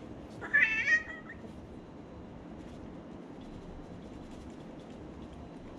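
A cat gives one short meow near the start, close and fairly clear, over a steady low rumbling background that continues alone afterward.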